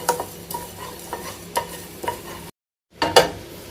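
Fenugreek and mustard seeds frying in a pan, heard as rhythmic stirring scrapes and taps about every half second over a low sizzle, close, broken by a brief silence before louder clatters resume.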